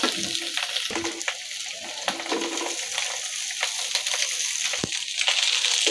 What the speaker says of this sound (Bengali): এবার ভাতগুলো নাড়িয়ে দেব